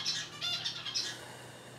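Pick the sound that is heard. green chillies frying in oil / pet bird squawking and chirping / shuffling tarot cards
pet bird squawking and chirping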